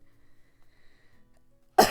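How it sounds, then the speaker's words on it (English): Near silence, then one sharp, close cough right at the end. "sorry, I had to cough."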